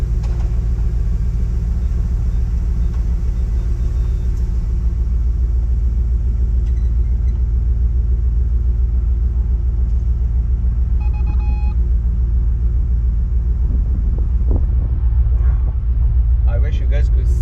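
Low, steady Bugatti engine rumble idles throughout, warmed up rather than cold, with a faint rise in revs near the end; speech is tagged but no clear words stand out.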